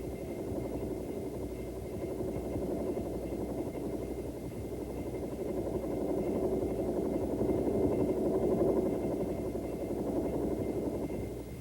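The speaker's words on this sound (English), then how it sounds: "The next basic maneuver the student will perform is a normal takeoff from a hover in the rear seat" A Bell AH-1 helicopter makes a normal takeoff from a hover, its rotor and engine giving a steady, fairly distant whirring drone that swells slightly midway.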